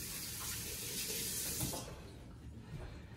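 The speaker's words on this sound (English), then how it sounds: "I'm gonna rinse off my hands." Hands rinsed under a running kitchen tap after preparing chicken piccata, a steady close hiss of water that thins out partway through.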